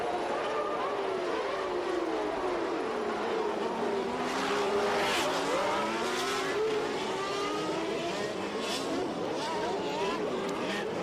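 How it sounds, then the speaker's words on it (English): 1989 Formula 1 race cars at the start of a race, their engines blending into a dense, continuous high-pitched roar with rising and falling tones as the pack accelerates, with commentary over it. "at the start it was Senna who led down to the first corner"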